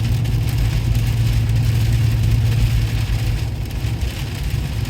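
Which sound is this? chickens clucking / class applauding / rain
rain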